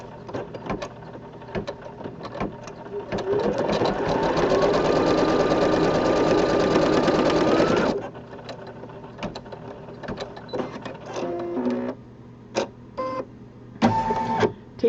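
Embroidery machine stitching a placement line on grass fabric for a small rainbow design, a steady close mechanical whir with rapid needle chatter running several seconds, then stopping, followed by scattered clicks and handling noises.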